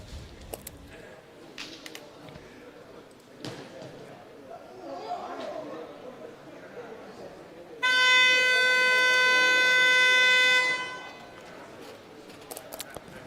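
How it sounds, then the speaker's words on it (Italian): At a roller hockey match, the rink siren sounds one loud, sustained, buzzy horn blast lasting about three seconds, rising clearly above the arena's murmur and commentary. "Sirena che richiama tutti in pista."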